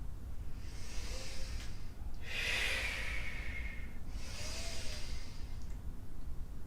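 Deep, slow breathing during a yoga session: three long, airy inhale-and-exhale rushes follow one another at close range with no talking.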